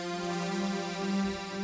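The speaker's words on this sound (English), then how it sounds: "the diamond string sound, which is a very different, typical string sound." A rare string machine sampled on its diamond strings setting holds a steady, rich sustained chord, smooth and full with a continuous tone and no talking over it.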